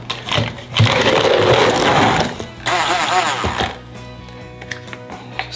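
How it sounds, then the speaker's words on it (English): A KitchenAid blender whirs loudly while mixing a recovery drink with orange juice, running in a couple of bursts with a brief pause between them, then winding down as a voice speaks over the quieter tail. "You can use a blender, of course."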